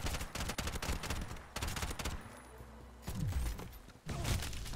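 Rapid gunfire in Bright Memory: Infinite, loud bursts of automatic shots in clusters with brief pauses and swooping effects between, close and punchy, no speech.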